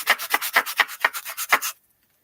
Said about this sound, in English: here's a really heavy sandpaper